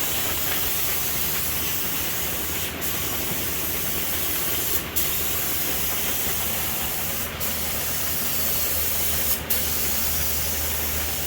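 A spray gun lays down a first coat of paint inside an inflatable spray booth, giving a loud continuous hiss with a low fan rumble underneath and four brief breaks where the trigger releases, with no talking.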